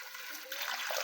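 Water pours into a pan of fish curry being cooked with green bananas, giving a short, faint splashing rush that swells toward the end.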